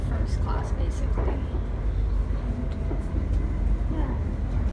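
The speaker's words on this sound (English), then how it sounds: "So this is the train that we were just on" Train ride in Amsterdam: a steady low rumble of the carriage fills the cabin throughout, with faint clanks and rattles on top and people talking nearby.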